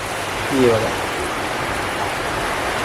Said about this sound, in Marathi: पावसाचा आवाज येतोय काय कॅमेरामध्ये